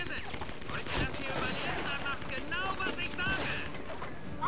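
Repeated M1 Garand rifle shots in the Medal of Honor: Vanguard video game, with sharp reports and battle noise continuing throughout the scene.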